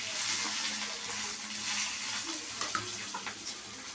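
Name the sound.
onions sautéing in pan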